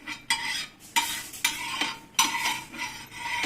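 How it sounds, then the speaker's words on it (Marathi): A spoon scrapes and spreads oil across a pan for pumpkin dangale, making a series of close, bright scraping strokes in an uneven rhythm with faint sizzling underneath, no voices. "आपण चमच्याने तेल पसरून घेऊ."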